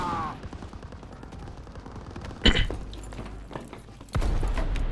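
An anti-aircraft gun fires in Call of Duty: WWII, a sharp blast then a sustained loud rumbling barrage, over a low engine drone.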